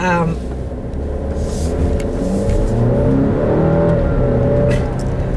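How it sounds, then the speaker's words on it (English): A 2018 Alfa Romeo Stelvio SUV engine revs steadily under acceleration, a loud sustained drone close by, with a voice talking over it. "love that sound of this engine"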